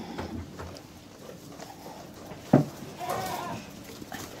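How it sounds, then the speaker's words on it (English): Goat bleating on a farm while young goats are being weighed, a single short loud bleat midway through over quiet background shuffling and a faint voice. "Crazy goat. Crazy goat."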